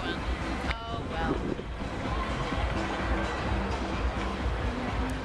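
Strong wind buffeting the microphone at the Jersey Shore beach, a steady rumbling roar with blustery surges and faint surf, as people talk over it.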